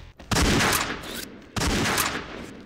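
Two long, loud bursts of rapid gunfire from a transforming gun in a first-person shooter game, close and harsh, separated by a short gap, with no talking.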